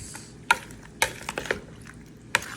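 A spoon stirs kinilaw na tuna in a bowl, giving a few sharp clinks against the bowl amid soft wet mixing, close and sparse, with no talking.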